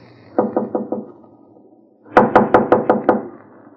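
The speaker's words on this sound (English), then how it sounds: "Now knock." Knuckles rap on a door, four quick knocks, a pause, then a louder run of about six firm knocks, close and dry in a quiet room.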